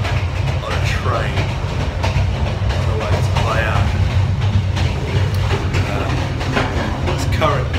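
A train rumbles steadily along the rails with a continuous low roar and faint rhythmic clatter, heard from inside a carriage, with muffled voices underneath.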